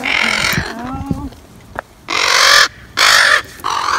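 A crow gives loud, harsh caws nearby in three or four bursts, with a voice briefly heard before them.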